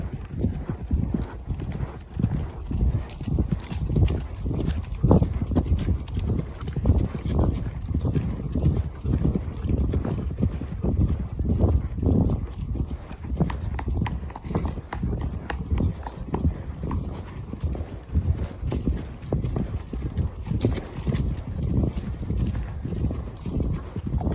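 Steady clip-clop of horse hooves on a hard road during a hack, an even walking rhythm throughout, close and clear with some wind noise behind.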